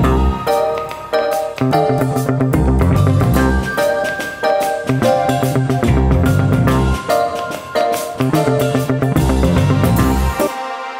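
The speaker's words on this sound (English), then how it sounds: "some sustained pad, and add a soft tremolo to it." A sustained synth pad with soft tremolo chopped into 16th or 8th notes plays inside a full, dense game music track, loud and continuous throughout.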